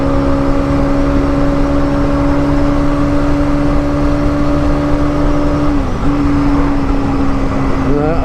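A 125cc motorcycle being ridden, with a steady engine drone and a constant wash of road and wind noise throughout, the engine note dipping slightly near the end.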